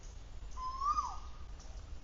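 A single bird call, tagged as owl-like, rings out in a quiet seaside park in Phuket, Thailand: one clear tonal note with a falling sweep near the middle, moderately close, over faint steady background noise.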